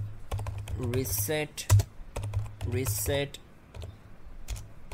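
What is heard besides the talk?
typing commands on a computer keyboard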